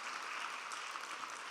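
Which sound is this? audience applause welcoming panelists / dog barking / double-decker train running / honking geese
audience applause welcoming panelists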